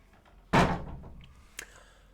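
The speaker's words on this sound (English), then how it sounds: "go shut the door" An indoor door is shut with one sudden, loud thud, followed by a faint, brief knock or latch click about a second later.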